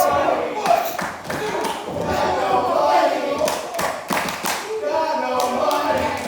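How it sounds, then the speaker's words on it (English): Wrestling arena crowd chanting in rhythmic bursts with clapping and thumps, loud and close, mixed with cheering voices throughout. "crowd chanting about some money action"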